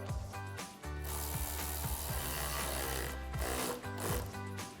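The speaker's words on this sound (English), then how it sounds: "Now you can take your 7mm socket and tighten this down." Ratchet clicking as a 7mm socket tightens a clamp on a Deegan 38 cold air intake for a Jeep Gladiator JT, with steady close rhythmic pawl clicks running throughout and no talking.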